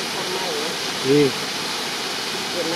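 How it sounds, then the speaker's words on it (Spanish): The waterfall at Heart Rock Falls rushes as a steady broadband hiss throughout, with a short spoken word briefly over it. "Y finalmente llegamos a la cascada."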